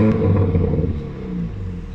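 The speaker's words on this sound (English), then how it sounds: "Just listen to this exhaust note." A 2020 Hyundai i30 Fastback N 2.0 engine, 272 bhp, rumbles and revs briefly after warming up, a deep throaty exhaust note swelling then settling into a lower idle, close and fairly loud.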